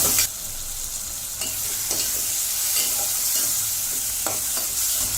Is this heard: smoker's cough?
no